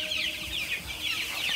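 Young chicks in a freshly disinfected brooder pen bedded with rice husks keep up a dense, continuous chorus of high cheeping, close by and steady throughout.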